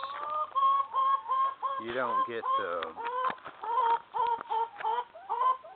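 Several chickens cluck and squawk in short bursts, close by, with a brief voice speaking among them.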